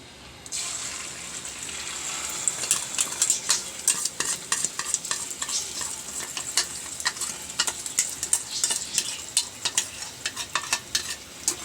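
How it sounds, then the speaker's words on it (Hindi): Spoon stirring an egg halwa mixture in a pan on medium heat, a steady wet sizzle broken by many quick, sharp scraping and clinking strokes, close and continuous with no talking. "तो ये डालने के बाद आपको फ़ौरन जल्दी इसको चम्मच चलाना है"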